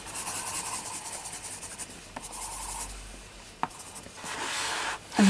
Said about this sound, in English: Sort of burnishing it now.